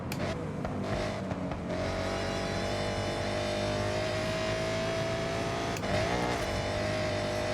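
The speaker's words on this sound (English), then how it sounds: "Nothing like a supercharged V8 to start the day." Supercharged V8 car in the racing game Forza Horizon 6, a steady loud engine drone with supercharger whine, sustained revving that dips briefly near the end, no talk over it.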